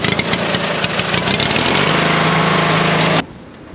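Racing lawnmower with a half-horsepower boxer engine runs steadily and loudly at close range, a busy mechanical drone with a faint tonal hum, then cuts off abruptly near the end.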